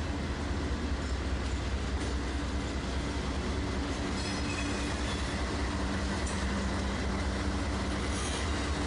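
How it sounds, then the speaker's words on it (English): A CP manifest freight train hauled by CWM locomotives rolls past at night in LaGrange, a steady broadband rumble of wheels and cars with faint squeals, continuous and fairly close throughout. "The last train was a CP manifest being pulled with a CWM"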